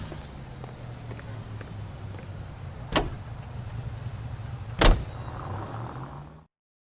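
Car driving in L.A. Noire, a steady low engine drone with road hum and two sharp clicks or knocks, fairly quiet, ending abruptly.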